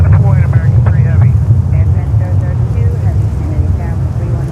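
A jet airliner's engine rumbles low and steady at JFK airport near runway 31 left, mixed with heavy wind noise while someone talks over it throughout.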